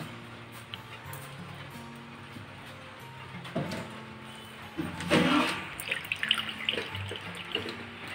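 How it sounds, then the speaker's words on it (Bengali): Soaked shredded potatoes are squeezed by hand, water splashing and dribbling out in a louder burst partway through, with faint drips and low kitchen background before and after. "এখন আলুগুলোর মধ্যে থেকে জল যতটা সম্ভব চিপে বার করা যায় সেইভাবে আমি বের করে নেব।"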